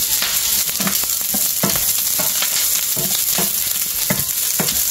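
Onion sautéing in a pan for pata tim, a loud close sizzle broken by regular spatula stirs and scrapes at roughly half-second intervals, with no voices over it.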